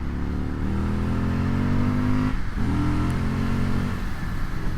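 An Indian FTR1200 motorcycle engine drones loud and close while riding, holding a steady throttle, then briefly dropping off and picking back up with a rising rev.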